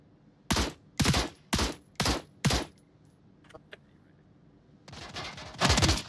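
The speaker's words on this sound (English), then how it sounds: "And here is the gunshot made by Joa towards EJ, who has been spotted." Gunfire in the VR shooter Onward during a competitive match: five sharp, loud shots in a steady rhythm, then a quiet gap with faint clicks, then a burst of rapid automatic fire near the end.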